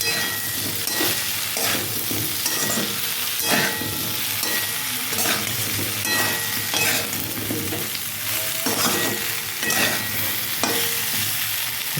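Mixed vegetables with cumin powder and turmeric fry in a pan, giving a steady, loud sizzle for the whole time. Repeated spatula strokes scrape and clatter through it in an uneven rhythm.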